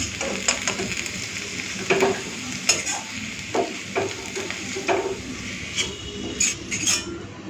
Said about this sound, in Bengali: গ্যাসটাকে একটু মিডিয়ামে রেখে রেখে আলুগুলোকে ভেজে নিয়েছিলাম